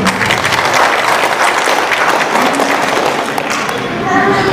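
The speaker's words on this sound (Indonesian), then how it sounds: "Tepuk tangan dulu." A seated audience at an inauguration ceremony for the Ikatan Wanita Sulawesi Selatan branch in Teluk Wondama claps in dense, loud, continuous applause that fills the room for several seconds, with faint voices underneath.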